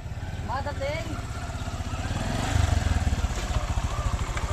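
A motorcycle engine runs close by at a steady, throbbing idle, its pulses rising slightly toward the end, while people talk over it.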